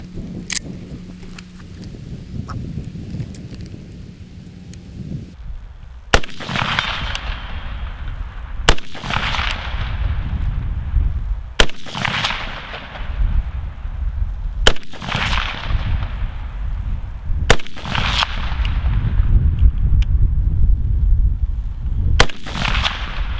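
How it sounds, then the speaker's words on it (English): Rifle shots ring off a steel target about 150 away, roughly eight sharp cracks spaced a few seconds apart outdoors, each with a bright decaying ring, following a low hum. "We know that we are impacting steel pretty well at about 150. So we'll give that another shot."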